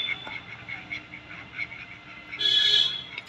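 Ducks walking in a line through a village, soft repeated quacks and calls at a moderate distance over outdoor ambience, with a louder burst near the end.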